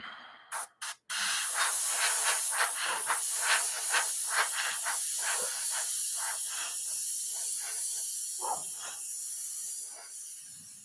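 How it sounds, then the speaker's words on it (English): An airbrush sprays paint onto a sportsman mod model car body: a few short bursts, then a long continuous hiss that pulses softly as the trigger is worked, close and clear. "I think this is my 7th body I've got to paint with this airbrush."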